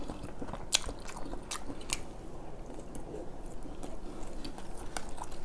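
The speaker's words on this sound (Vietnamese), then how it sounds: "là cái lụa mà ăn mà cắn sụt sụt sụt sụt á" Biting and chewing steamed Vietnamese pork roll (chả lụa) with little flour, giving soft, repeated crunchy-squishy bites at a close, steady rhythm, with no talking.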